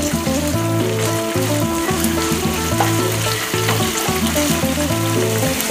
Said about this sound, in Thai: เสร็จแล้วเราก็ใส่หมู3ชั้นนะครับหมู3ชั้นลงไปคนๆนะครับให้เข้ากันนะครับ